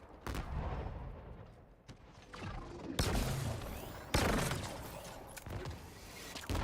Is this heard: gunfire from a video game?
yes